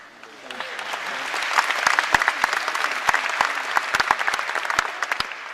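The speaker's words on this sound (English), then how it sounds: "Thanks for realizing I was waiting for you to applaud." Audience applause at a talk on local layer ordering, a spread of sharp claps that swells after the first half second and keeps going at a steady, fairly loud level until the end.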